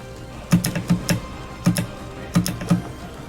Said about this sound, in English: Now this is optimal spacebar mashing.